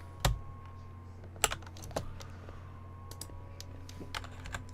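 Computer keyboard keys tapped in short, sparse clicks over a steady low electrical hum, a few sharper strikes standing out near the start, while a ham radio control program for a Yaesu FT-891 is being tested.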